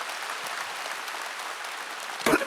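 A church congregation applauds during a revival meeting, a dense, steady wash of many hands clapping at moderate distance, with a brief louder burst near the end.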